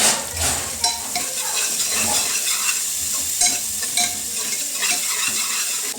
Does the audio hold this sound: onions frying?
yes